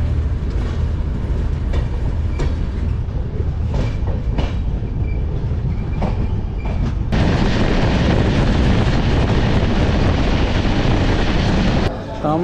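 The 12343 Darjeeling Mail rumbles loudly and steadily along the line toward Kishanganj, a constant roar of wheels and carriages that grows louder and harsher partway through.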